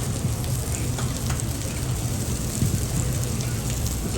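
Fresh fish cooking in a quick boil, a steady dense bubbling and crackling wash that holds at an even level throughout, close by, with no talk over it.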